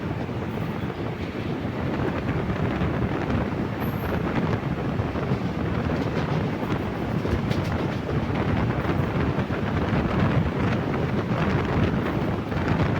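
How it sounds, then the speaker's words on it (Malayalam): A Punalur–Nagercoil passenger train runs at speed between Kollam and Nagercoil, giving a continuous loud rumble and rattle of the carriages mixed with heavy wind rush, steady throughout with no voices. "ട്രെയിൻ അത്യാവശ്യം നല്ല സ്പീഡിലൊക്കെ തന്നെയാണ് കേട്ടോ പോകുന്നത്"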